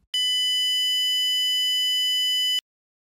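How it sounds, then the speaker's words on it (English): A steady, pure electronic tone with bright harmonics, a THD plus noise residual left after the fundamental is removed, holds for about two and a half seconds, then cuts off abruptly into silence. "listen to the THD plus N residual, the portion of the signal that remains after the fundamental is removed"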